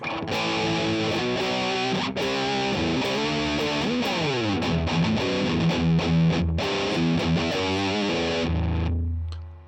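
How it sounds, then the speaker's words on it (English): Heavily distorted electric guitar through a Tantrum pedal with distortion maxed plays loud and continuous, with thick saturated chords and bends that ring out for the whole stretch before cutting off. "Let me turn the distortion all the way up"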